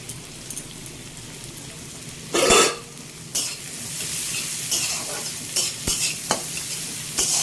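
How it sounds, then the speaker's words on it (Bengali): Two medium onions and chopped chili fry in a pan for pav bhaji. A close, steady sizzle is broken by several loud bursts of stirring and scraping. "পেঁয়াজটাকে একদম গোল্ডেন ভাজবেন"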